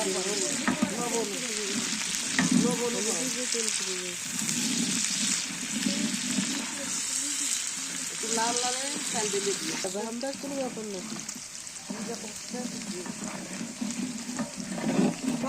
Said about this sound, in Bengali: এখন হয়ে গেছে পেঁয়াজ রসুন মরিচ ভাজা